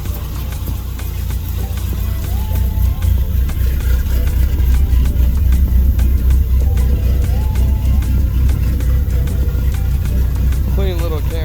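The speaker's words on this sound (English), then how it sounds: "That cammed out mini truck though." A cammed mini truck's engine rumbles loudly and steadily nearby with a choppy lope, the low drone continuing throughout.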